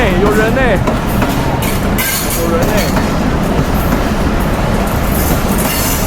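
A train rumbles past loudly and steadily in Bangladesh, wheels clattering on the rails, with a voice heard briefly near the start.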